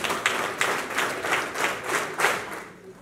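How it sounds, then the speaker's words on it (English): An audience at a digital innovation summit in Nairobi claps in unison, a counted series of about seven or eight loud, evenly timed group claps with slight reverberation and no talk, trailing off at the end. "8 claps."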